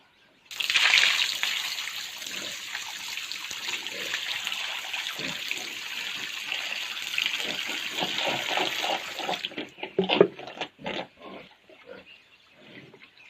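A steady stream of water pours for pigs at feeding time, a continuous close rush that cuts off near the end, followed by a few pig grunts and splashes.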